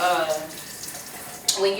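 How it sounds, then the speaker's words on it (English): Hands washed under a running kitchen tap while cooking lamb chops and mashed potatoes; a steady close water stream pours and splashes throughout, with a brief clatter near the end. "I wash my hands"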